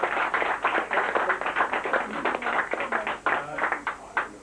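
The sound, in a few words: audience applause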